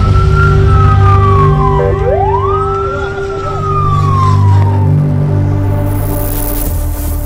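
An ambulance siren in Gaza wails loud and close, its rising and falling tone sweeping over a low vehicle rumble, with no talk.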